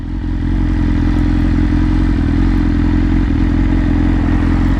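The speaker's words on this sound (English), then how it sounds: "I'm really happy with the exhaust sound, guys." A 2022 BMW S1000R M Package idling with Arrow headers and an Akrapovic exhaust, a loud, close, steady rumbling drone with a clattery edge that holds evenly throughout.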